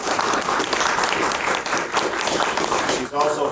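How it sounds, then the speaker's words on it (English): A room full of people applauds to welcome an author at a book event on Latino ministry. The clapping is dense and sustained at a steady loudness, with a short dip near the end and a voice coming in. "Give a round of applause, but don't come up"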